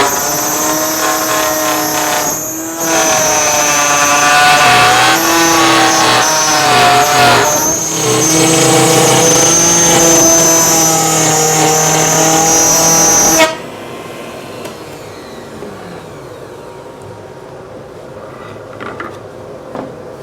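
A power tool screams steadily as it cuts a groove into maple wood, loud and continuous with brief dips, then stops abruptly and leaves a quiet room with faint shop noises.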